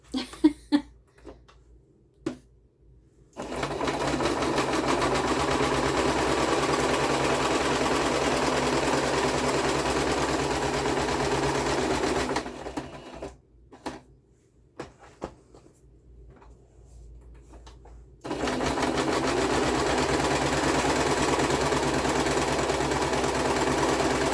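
A sewing machine stitches a zigzag in two long, steady close runs separated by a quiet pause, with a short burst of handling noise before the first run and no talk.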